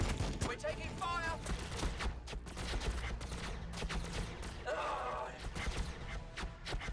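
Rapid bursts of gunfire crackle through a Warhammer 40K Battlesector battle, dense volleys and thuds repeating steadily under a voice talking throughout.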